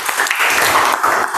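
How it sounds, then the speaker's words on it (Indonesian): Classroom pupils give a short burst of applause, dense and close, lasting just over a second. "Tepuk tangan buat kalian."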